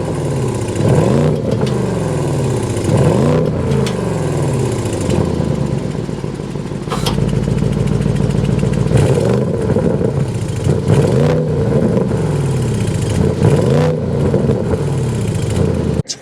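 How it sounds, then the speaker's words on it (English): A 2024 Audi S8 engine is started and revved, its exhaust note rising and falling in repeated swells over a steady rumble, loud and close, with a sharp burst near the middle and no talk. "start it up so you can hear that exhaust note"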